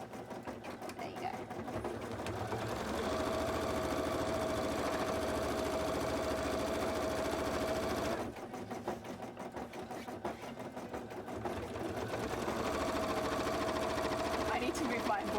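Embroidery machine stitching on a cosplay costume, a fast steady mechanical chatter running continuously, close and moderately quiet, briefly pausing before resuming.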